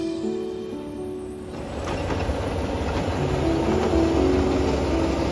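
A long-distance passenger train on the Beijing to Sanya run moves along the rails, a steady low rumble and rolling noise that swells after a quieter start and stays loud and continuous.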